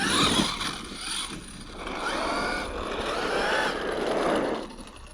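FG Baja 4x4 RC car with a 650 KV motor on 12s power, whining and surging as it drives and turns, rising and falling in waves at moderate distance.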